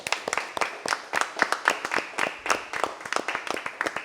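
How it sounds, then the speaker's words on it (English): A modest congregation claps during a feast-day Mass in a church. The sharp, distinct hand claps come close together in an uneven patter, close and clear, with no talking over them. "Please give him a round of applause."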